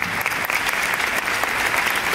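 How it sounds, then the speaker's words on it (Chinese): A crowd of about 150 guests at a business networking press conference applauds, with brisk, dense clapping that stays loud and even from start to finish. "那也给我们 Benson 的掌声好不好"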